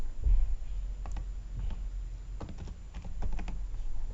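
Close, quiet typing on a computer keyboard while a package name is entered, scattered key clicks in short irregular bursts over a low steady hum.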